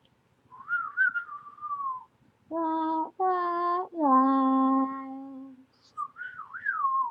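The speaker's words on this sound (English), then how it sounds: "I can't whistle too much, but I whistle while I work." A person whistles a short tune of several clear, sustained notes with brief gaps between them, close and alone with no talking.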